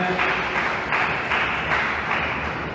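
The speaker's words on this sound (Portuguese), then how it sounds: "dê uma salva de palmas para Jesus com" A church congregation applauding in a round for Jesus, dense sustained clapping from many hands with a steady rhythmic pulse, filling the room at close range.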